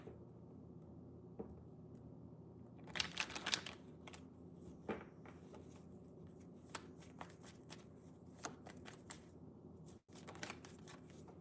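Black Moon astrology cards are shuffled in quick riffling bursts, a loud flurry around the third second followed by scattered softer flicks and snaps of the deck in a quiet room.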